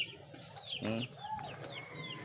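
Farmyard chickens cluck in short bursts, one louder close call standing out midway, with other birds calling and chirping faintly around them.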